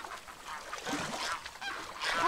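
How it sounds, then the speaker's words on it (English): Ducks quacking and honking at a distance in The Last of Us, a scattered cluster of nasal calls over faint ambient background. "Sounds like there's ducks."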